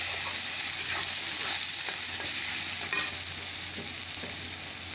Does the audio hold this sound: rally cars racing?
no